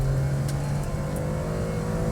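Ferrari Enzo's naturally aspirated 6-litre V12 pulling hard, a loud, sustained engine drone heard from close by, with no voices.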